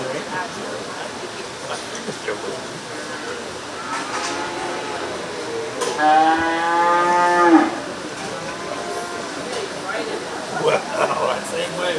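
A feeder calf heifer gives a long, loud moo in the middle of a 4H cattle show at the Shelby County Fair, with crowd and show sounds and people talking around it.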